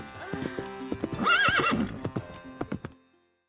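A horse whinnies loudly in a rising, wavering neigh while its hooves clip-clop in a steady rhythm, then the sound stops abruptly.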